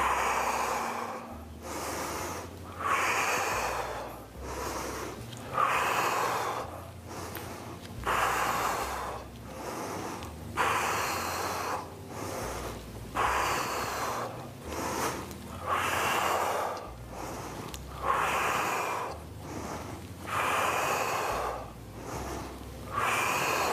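Someone breathes in and out in a steady rhythm during bodyweight strength exercises without machines, with close, forceful inhales and puffing exhales repeating about every two seconds, alone with no talking.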